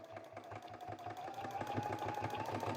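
A sewing machine running a straight stitch to attach ribbon to a fabric mitten, a faint steady mechanical hum with fine rhythmic needle ticking that builds slightly, close but quiet, with no talking.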